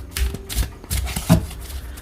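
A deck of tarot cards is shuffled up close, making a few rhythmic soft riffling bursts and slaps of cards over two seconds, with no one speaking.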